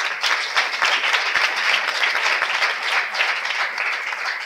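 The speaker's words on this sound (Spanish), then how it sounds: "Pido un fuerte aplauso para ella." An audience at a university journalism congress gives a speaker strong applause, many hands clapping densely and steadily for several seconds, with close individual claps standing out, loud, with no talk.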